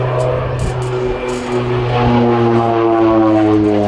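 North American Rockwell OV-10 Bronco twin-turboprop aircraft at an air show, a loud, steady propeller and engine drone with a sustained tonal hum, close and continuous throughout.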